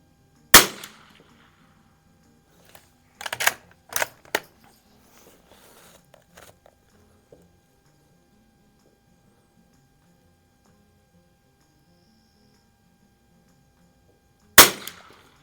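Shots from a Sears Ranger rifle firing CCI standard velocity ammunition at an outdoor range: a sharp crack near the start, a quick cluster of three more shots around the four-second mark, then a final crack at the end, with quiet in between.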